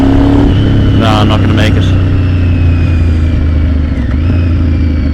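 A Honda Firestorm VTR 1000 motorcycle with aftermarket levers pulls hard from a standstill toward 60 mph, its engine a loud steady drone close by, with a rider speaking briefly over it.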